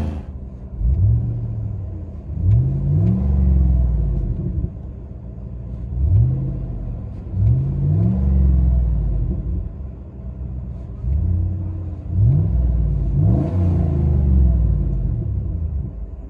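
A 2012 Cadillac Escalade ESV with a 6.2L V8 and Flowmaster Flow FX exhaust revs repeatedly, deep rumbling blips rising and falling in several bursts, loud and close with no talking.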